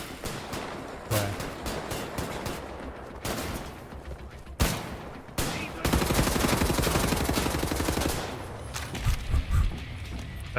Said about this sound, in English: like dual wielding shotguns.